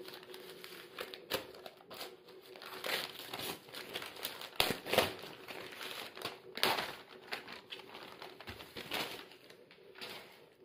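Paper crinkles and rustles up close in irregular bursts, with soft crackling handling noises coming and going throughout.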